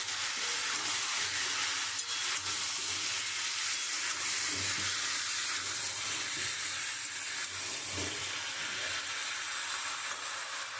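Prawns hit hot spiced masala in a pan and set off a continuous broadband sizzle and hiss. A few soft clatters sound under the steady frying noise, and no one speaks.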